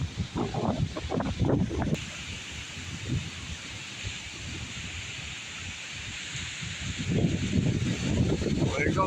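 A strong wind gust roars through trees during a thunderstorm, a broad steady rush that swells loudest at the start and again near the end, with leaves rustling and faint human sounds around it.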